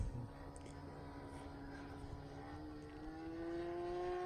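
Distant engine of an RC T-34 Mentor model airplane at a flying field: a thin, buzzing whine that slowly climbs in pitch and gets louder, heard faintly against the outdoor background.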